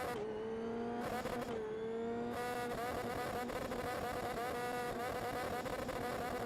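Race car engine idling after a crash in a Formula 3 racing video game at the Canadian Grand Prix, a steady buzzing drone with a shifting whine, continuous and moderately loud, no voices.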